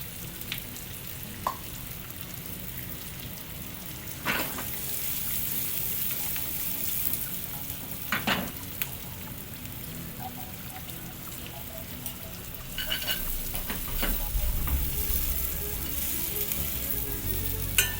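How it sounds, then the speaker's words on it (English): Onions and chili powder fry in a pan with a quiet, continuous crackling sizzle, dotted with sharp pops and spits and a few stirring scrapes, swelling slightly louder near the end. "As the chili powder cooks and the onions cook"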